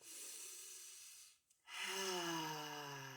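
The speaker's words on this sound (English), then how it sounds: "So breathing in on the way up." Slow, audible breathing during a relaxing shoulder-roll stretch: a long breathy exhale, a short pause, then a steady, close in-breath with a faint voiced hum and no words.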